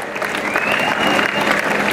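A crowd at a 2023 rancho event in Ocuituco, Morelos, applauds a band as it leaves the stage, with dense, steady clapping for the whole stretch and a faint voice or whistle rising through it.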